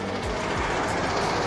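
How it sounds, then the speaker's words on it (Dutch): A truck passing close by on a road, heard from another truck's cab as a loud, broad rushing roar with a brief low sweep, lasting only a moment. "Vrachtwagen er langs."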